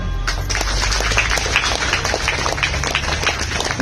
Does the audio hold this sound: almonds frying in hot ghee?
no